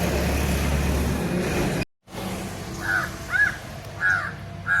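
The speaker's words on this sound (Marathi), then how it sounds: "पक्षी ओरडतायत झाडावर चिंचेच्या." Crows caw from a tamarind tree, several harsh calls in the latter half after a brief gap, over a low outdoor rumble with a faint passing vehicle in the background.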